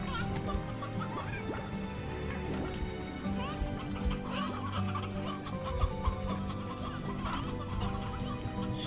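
Chickens clucking in the Slime Rancher video game, many overlapping clucks and squawks in a busy, steady flock chatter, with a voice talking faintly underneath.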